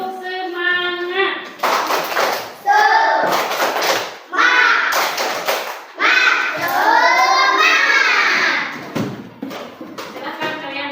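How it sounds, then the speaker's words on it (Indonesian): A group of schoolchildren repeat the tepuk semangat spirit clap, chanting loudly in unison with bursts of patterned hand claps and thuds between their voices, close by in a classroom. "Sekali lagi tepuk semangat."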